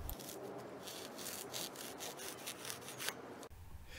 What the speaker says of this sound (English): The float indicator was fabricated by cutting extruded polystyrene